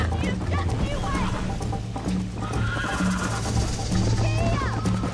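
A horse in the Red Dead Redemption video game whinnies several times over steady clip-clopping hooves, with voices talking throughout.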